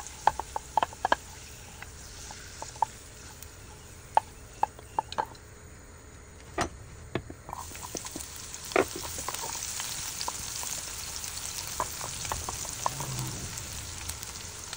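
Potatoes sizzling and frying in hot oil, with scattered pops and crackles and a steadier hiss building in the second half; no talking.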